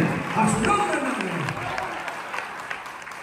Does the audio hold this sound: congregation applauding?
yes